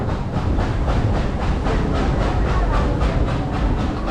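A passenger train ride with a loud steady rumble and rhythmic clickety-clack of wheels over rail joints, repeating evenly and close throughout.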